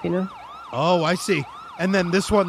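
Police car siren in an urgent setting, rising and falling wails alternating with faster yelping sweeps, loud and close, with a person talking over it between bursts.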